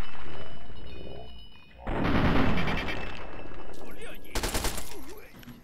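Gunfire in Fallout 3, a sudden, loud sustained burst of bullets fired at close range at a sniper, followed by scattered echoing shots and a brief voice.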